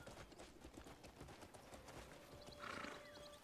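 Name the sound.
horse hooves in Crimson Desert video game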